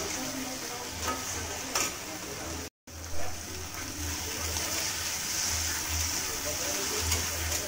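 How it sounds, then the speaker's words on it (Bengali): Onion and capsicum sizzle steadily in a hot pan, with occasional stirring scrapes and a voice talking over the frying. "কয়েকটা পেঁয়াজের টুকরো আর ক্যাপসিকামটা দিতে ভুলে গেছিলাম, ওইটাও ভেজে নেব"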